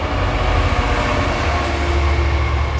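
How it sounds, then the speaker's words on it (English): A diesel freight train passes very close to a bridge, producing a loud, steady rumble with grinding wheel and rail noise that holds throughout without pause. "It's another freight train. Like a diesel."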